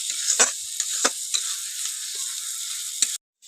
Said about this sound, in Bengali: টমেটোটা যতক্ষণ সেদ্ধ না হবে ততক্ষণ আমি এটা ভাজতে থাকবো মশলাটা